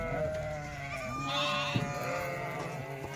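Kathiawari sheep and goats in a crowded pen bleat in overlapping calls, several animals sounding at once, close and fairly loud, with a brief knock partway through.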